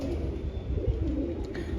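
Pigeons in a loft give low, steady cooing throughout, a soft continuous murmur with no speech over it.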